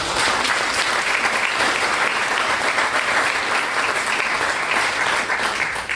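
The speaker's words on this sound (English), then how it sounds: "round of applause for everyone who came and speak" An audience at a UC Merced event with Julian Castro and Ruben Navarrette applauds its speakers, a dense, loud, steady round of clapping that holds evenly for the whole stretch.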